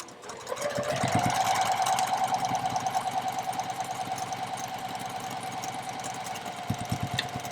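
A sewing machine chain-pieces quilt strips, running in a steady, rapid mechanical chatter with a whining motor tone that holds for several seconds, close and fairly loud, with no talking.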